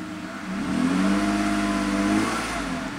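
A Mercedes car engine revs up with a steady rising drone, close and sustained, then settles slightly, running on only six cylinders with the ASR warning light on; no talking.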